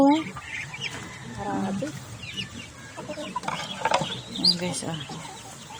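A flock of ducks gathers at water to drink, giving busy overlapping quacks and chatter throughout, with a person speaking briefly among them.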